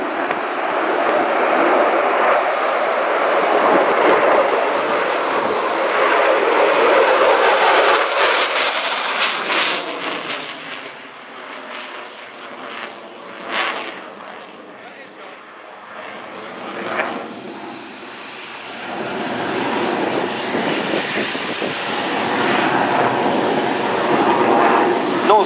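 RAF Eurofighter Typhoon jet flying a display at RIAT 2013, a loud sustained jet engine roar that swells and fades as the aircraft passes, with brief surges partway through and faint voices underneath.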